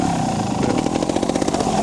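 A £30 raffle-won trials motorcycle's engine runs while being ridden, a close, steady mid-pitched buzz with rapid regular pulsing and small surges of throttle.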